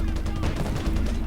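Sustained gunfire and explosive battle noise from the Gates of Hell: Liberation video game as a 45mm anti-tank gun opens fire, dense and loud throughout, with heavy low rumble and no clear separate shots.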